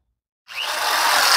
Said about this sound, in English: My screw and my drill ready to go here